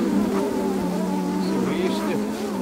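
Honeybees swarm close around a beehive, their loud continuous buzzing drones on with shifting pitch as individual bees pass near.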